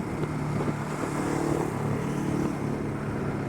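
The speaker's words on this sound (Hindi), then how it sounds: "I think it's a Ducati." A Ducati motorcycle engine drones steadily nearby at a lakeside spot, a continuous loud rumble with no clear rise or fade, no one speaking.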